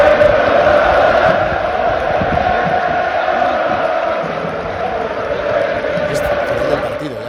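Large stadium crowd at Camp Nou after a Barça match as players applaud the stands, a dense, steady roar of cheering and applause filling the whole clip, loud and continuous with slight swells.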